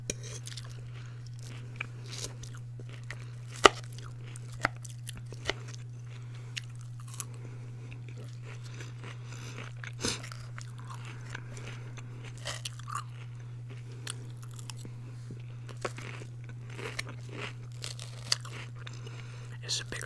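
Close, crisp crunching bites of lettuce salad repeat irregularly over a steady low hum, with occasional crinkling sounds.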